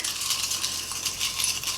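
Folded paper prompt slips shuffled inside a TBR jar, giving a continuous close rattling and rustling of paper against glass with no pauses.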